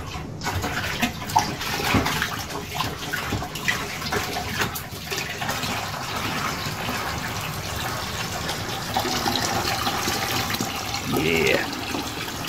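Water gushing and trickling through a hand siphon, a steady close flow with occasional gurgles and splashes, while people talk quietly in the background.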